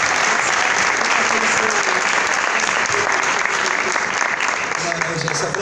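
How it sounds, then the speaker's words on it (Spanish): A large audience at the Premios Romeo Gavioli 2019 carnival awards ceremony breaks into loud, sustained applause, dense clapping filling the hall for several seconds with some voices mixed in. "Un aplauso."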